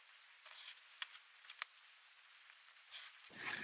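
Fabric being trimmed along a ruler's trimming guide for a Kimberbell Petals & Prose book cover, heard as a few short, quiet cutting strokes with near-silent pauses between them.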